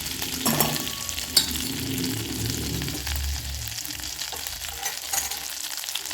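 Butter and oil sizzle in a kadai while a masala is cooked, giving a steady crackling fry with a few sharper pops and some stirring. No one speaks.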